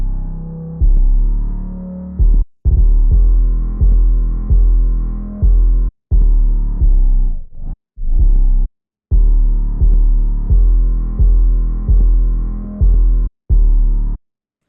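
Deep 808 bass notes in a wavy trap beat, the second pattern with its first note dropped an octave, throbbing in a steady repeating rhythm with brief gaps of silence between phrases, loud and alone.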